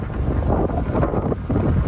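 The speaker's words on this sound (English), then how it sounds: "Nice and windy. Rain starting to kick in." Strong gusting wind buffets the microphone in a steady roar, with a faint hiss of rain starting up, outdoors near Orlando's MCO airport as Hurricane Milton approaches.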